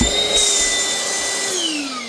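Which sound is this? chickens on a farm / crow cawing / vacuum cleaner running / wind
vacuum cleaner running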